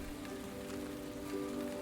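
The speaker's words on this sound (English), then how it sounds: "The rain is falling again when I get to Saint-Ouen." Rain falls steadily on arrival in Saint-Ouen, Paris, a soft, even wash of drops on surfaces that holds at a constant level without pauses.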